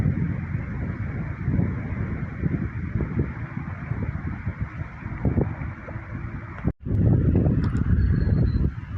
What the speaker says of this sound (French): Et là vous voyez la petite colonie de canards.